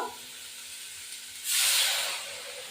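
Water hits a hot pan and bursts into a loud steamy hiss that rises sharply, then eases into a softer sizzle, with no voices.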